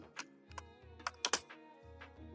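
A few quick keystrokes on a computer keyboard, close and crisp, in an uneven short burst over a low steady hum, no speech.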